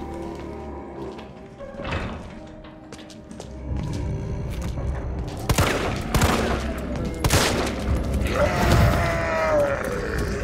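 Gunfire from the Resident Evil 3 Remake played on hardcore difficulty: loud, repeated shots and rapid bursts mixed with thuds and grunting enemy noises, dense and continuous throughout.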